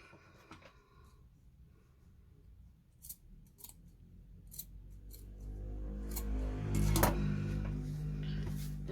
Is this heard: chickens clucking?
no